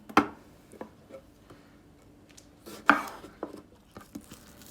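A kitchen knife chops tomatoes on a board, with two sharp loud cuts standing out among scattered lighter taps and knocks at close range, no talk over them.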